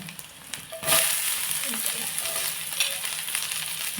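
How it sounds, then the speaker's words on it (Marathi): Chopped onion sautés in a hot pan for an okra curry, giving a loud, steady sizzle with occasional stirring scrapes, close up and continuous. "कांदो चांगलं परतन देऊया"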